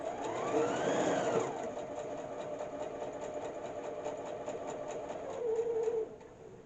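Sewing machine stitching quilt block squares trimmed to about 4.5 inches, a steady close motor hum with a repeating needle rhythm for several seconds before stopping, with no voices.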